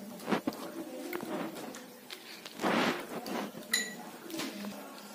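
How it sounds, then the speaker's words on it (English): Soap water is poured into a glass of turmeric water, with light glass clinks and a brief splashing rush, close and fairly quiet, with no talk. "Now I am going to add soap water in one first glass of turmeric water."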